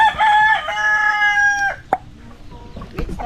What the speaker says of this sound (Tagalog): Ang sisiw ko. Ayan. Kain kayo, kain.